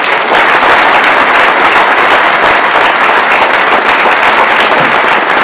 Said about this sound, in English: Lewis, let's give him a big round of applause.